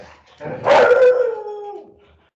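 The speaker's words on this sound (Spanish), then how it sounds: "llegó el perro" A dog lets out a single long howl that rises, swells loudly and then fades away over about two seconds, preceded by a short yip, heard close in a quiet room.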